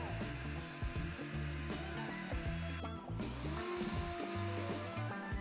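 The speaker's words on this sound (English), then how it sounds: "cutting the first mortises with the router." A handheld router cuts mortises into wood for a bent-lamination lamp, its steady high-pitched motor whine running loud and continuous with shifting tone as the bit bites, plus a brief dip near the middle.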